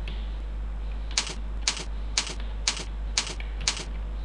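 Six evenly spaced key clicks on a computer keyboard while a new folder name is entered in Windows XP. Each crisp tap stands out clearly over a low, steady electrical hum, with about half a second between strikes.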